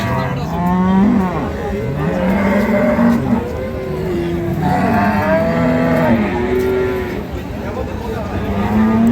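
Dairy cows moo repeatedly at the Ambari cattle market in Dinajpur, loud drawn-out lowing calls from several animals overlapping, over a noisy crowd with voices talking.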